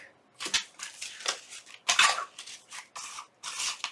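Scissors snip repeatedly through paper for a junk journal tag made from napkin-covered book pages, about eight short crisp cuts in an uneven rhythm, close and fairly loud, with no talking.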